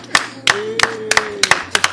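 A few people clapping for a new president, several sharp separate claps spaced irregularly and close by, with a faint tone running underneath.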